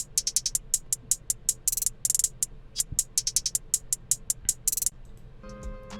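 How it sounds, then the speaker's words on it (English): A sampled hi-hat loop from a Cymatics pack in a hip-hop beat ticks in fast, crisp, evenly spaced bursts. It runs steadily with no voices, then stops near the end as a low tone comes in. "So I found this hi-hat loop actually"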